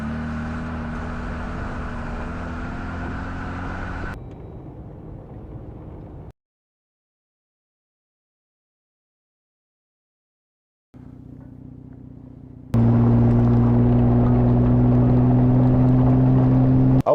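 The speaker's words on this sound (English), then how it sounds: "I'm going to take the Jeep down this dirt road with the Go 3 mounted outside" A Jeep drives down a dirt road, its engine a steady low rumble with road noise that thins out, drops to near silence for a few seconds, then returns and swells louder and closer with a strong droning hum.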